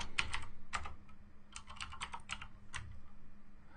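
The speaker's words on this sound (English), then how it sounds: "while I'm typing this" Rapid bursts of typing on a computer keyboard, close and clear, with irregular clusters of key clicks and short pauses over a low steady hum, no talking.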